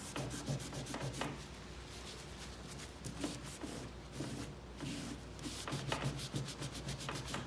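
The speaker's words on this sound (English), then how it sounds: "Take a little buffing cloth here and see if I want to make sure I don't leave any of this fill stick on top of the old veneer" A buffing cloth rubs back and forth over old wood veneer on a sewing table after fill stick repair, a steady close swishing with rhythmic strokes and no talk.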